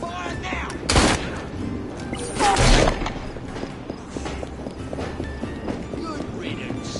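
Gunfire in Assassin's Creed Syndicate: two loud, sharp shot bursts stand out against a busy game backdrop of clattering hooves and movement, with voices speaking throughout.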